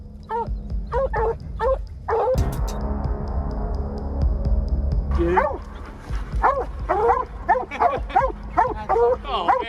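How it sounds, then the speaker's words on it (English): Blue-tick coonhounds and Plott hounds bay and yelp in short bursts during a hunt. A low throbbing hum runs underneath, and a loud rumble dominates the middle stretch before the barking resumes. "blue-tick coonhounds and plot hounds, breeds renowned for their tracking abilities and relentless pursuit"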